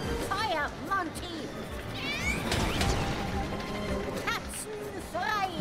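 Cartoonish cat meows from the video game LittleBigPlanet 3, several short rising calls scattered across the clip, mixed with busy game effects and music, while people talk over them.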